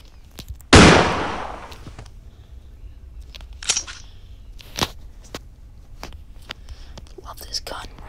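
A gun fires in the Granny horror video game: one loud sharp shot, followed by several fainter cracks and clicks spread out over the next few seconds, with quiet speech in between.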